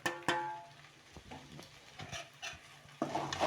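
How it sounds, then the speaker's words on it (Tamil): Ground spices such as chili, cumin, garam masala and pepper being stirred and sautéed in a pan for soya cutlets: soft faint sizzling with scattered spoon clinks and scrapes against the pan, and no talking. "இது எல்லாத்தையும் நம்ம சேர்த்து வதக்கிடலாம்."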